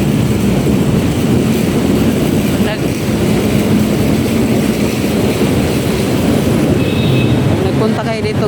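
An LRT train rumbles steadily at Carriedo station in Manila, a loud continuous roar of wheels and motors that holds without pause, with a faint high squeal creeping in near the end.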